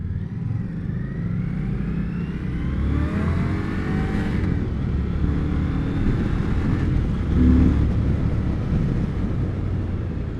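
A 2021 Indian Scout Bobber Twenty motorcycle accelerating hard, its engine note climbing through a loud, continuous roar with wind rush, heard up close from the rider's position without any talking.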